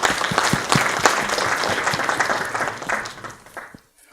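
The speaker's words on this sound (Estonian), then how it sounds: "Nii, teeme väikse aplausi ka." An audience at a tax law seminar breaks into steady applause, dense and close, holding for several seconds before fading out to silence.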